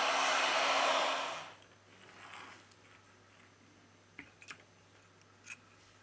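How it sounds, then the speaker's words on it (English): A heat gun or hair dryer blows loudly on a Huawei P40 Pro Plus phone to soften the battery cover adhesive, a steady rushing roar for over a second that cuts off, leaving faint clicks and handling sounds. "we apply heat to the device to remove the battery cover."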